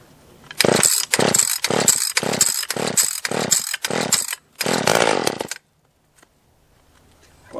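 A ported Stihl 020 chainsaw, unused for about six weeks, is pulled over and fires up with choke on, then runs in a series of loud rhythmic revving bursts before cutting off into near silence.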